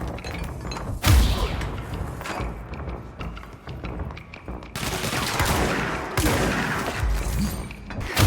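Heavy gunfire in the video game Control, bursts of rapid automatic shots with booming thuds, loud and close, broken by brief lulls before firing resumes.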